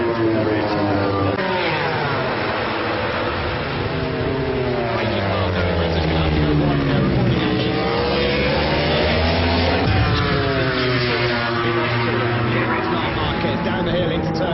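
MotoGP racing motorcycles at the Austrian Grand Prix, their engines rising and falling in pitch as they lap through the corners, heard continuously beneath a commentator's loud, steady voice.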